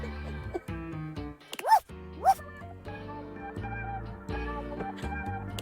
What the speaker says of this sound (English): like a soapy little dog jumps up at your legs, yapping and barking